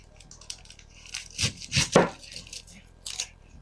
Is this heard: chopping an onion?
yes